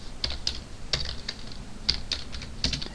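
Fast typing on a computer keyboard during a Python programming tutorial, with an uneven run of crisp, close key clicks and a few heavier strikes, and no talking.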